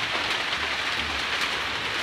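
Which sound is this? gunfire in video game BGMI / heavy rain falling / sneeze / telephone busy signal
heavy rain falling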